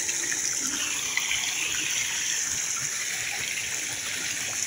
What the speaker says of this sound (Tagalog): Kaya rin parang sapa na dito, tampasan ng tubig.